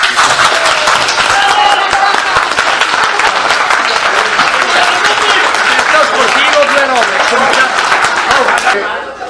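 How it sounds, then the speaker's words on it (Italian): Sustained applause from an audience at a youth football club event, dense clapping with crowd chatter mixed in, loud and steady for about nine seconds before tapering at the end. "Bene, un bel applauso!"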